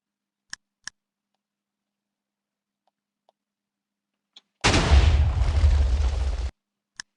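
A Minecraft Bedrock TNT block blows up with a sudden loud blast that rumbles for about two seconds and then cuts off, after a few faint ticks and clicks.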